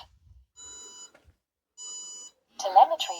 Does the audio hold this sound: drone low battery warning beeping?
yes